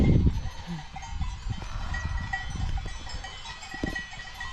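A sheep bleats in a snowy Swiss Alps pasture near a sheepdog, a few short calls over soft outdoor ambience, with faint bell-like clinks and footsteps.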